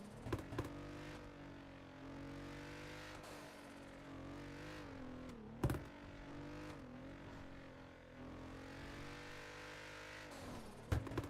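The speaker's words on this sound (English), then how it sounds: "There's a supercar outside here." A supercar engine idles and revs outdoors in GTA 5, a continuous mechanical drone with rising and falling pitch and a couple of brief bumps, fairly quiet with no speech.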